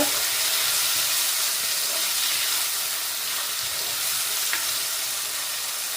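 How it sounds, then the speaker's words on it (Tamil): Tomatoes frying with sautéed onions for a crab curry, a loud steady sizzle and hiss filling the clip, with faint stirring scrapes underneath. "இந்த தக்காளி பழத்தை போடுறேன் தக்காளி பழத்தை போட்டு நல்லா மிக்ஸ் பண்ணி கொடுங்க"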